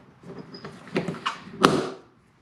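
A BMW motorcycle top box lid is pushed shut with a little force, giving a few soft knocks and shuffles that build to one firm, close latching thud near the end.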